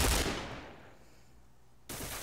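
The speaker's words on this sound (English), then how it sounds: "And there was gunfire." A burst of rapid gunfire in a video game opens loudly and fades into a quiet tail, then another loud volley cuts in near the end.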